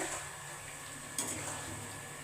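Raw mango and sugar stirred and sautéed in a pan for a sweet-sour-spicy pickle, giving a steady soft sizzle with scraping stir strokes and one brighter clatter partway through, fairly quiet throughout.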